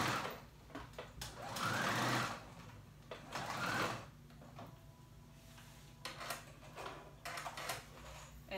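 A sewing machine running a straight stitch to close a gap in paper bag pants, two quiet whirring bursts of rapid needle rattle followed by softer mechanical clicks and handling noises.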